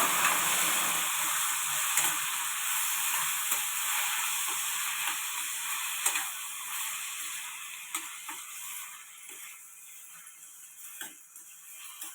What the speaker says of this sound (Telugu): టమాటా నూనెలో బాగా వేగనివ్వాలి